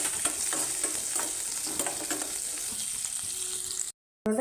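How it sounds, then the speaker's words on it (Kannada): Chopped onions sizzle and crackle in hot ghee for flattened-rice avalakki, with steady stirring scrapes throughout, close and fairly loud, then cutting off briefly near the end. "ಈರುಳ್ಳಿ ಹಾಕ್ಕೊಂಡು ಚೆನ್ನಾಗಿ ಈರುಳ್ಳಿ ಸ್ವಲ್ಪ ಕಲರ್ ಚೇಂಜ್ ಆಗೋ ತನಕ ಫ್ರೈ ಮಾಡ್ಕೊಳ್ಬೇಕು"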